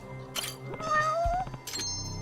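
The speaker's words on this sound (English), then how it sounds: "Got the cat." A cat meows a few times, close and clear, in the video game Judgment, with a brief clink and soft game sounds around the calls and a faint tone at the end.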